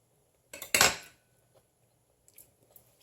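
A fork clinks and scrapes against a dish of Mediterranean tuna salad made with canned tuna and lemon juice, a quick cluster of sharp metallic taps, then quiet and a few faint later clicks.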